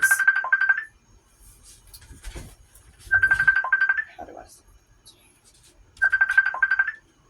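A telephone ringtone sounds in three short, bright bursts about three seconds apart, with a person talking quietly between the rings indoors.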